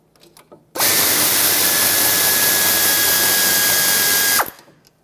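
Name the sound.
removing Mazda 6 brake caliper bolts with power tool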